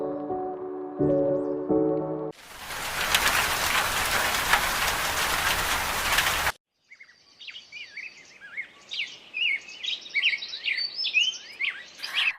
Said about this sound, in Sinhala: අද හොඳටම වැස්ස දවසක්.